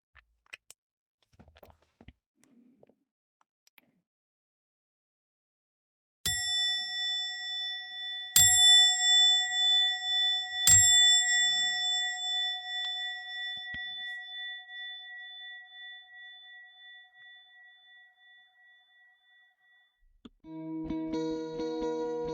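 A resonant meditation bell is struck three times, each ring overlapping and slowly fading into a long shimmering decay, followed by soft chiming tones.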